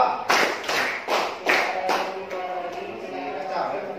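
A class of junior high school students claps together in a counted steady rhythm, several sharp unison claps followed by softer ones, with voices faintly underneath.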